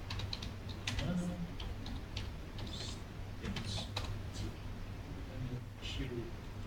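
Keys clatter on a computer keyboard in a lab room, quiet irregular bursts of taps under people talking, with a steady low hum behind them.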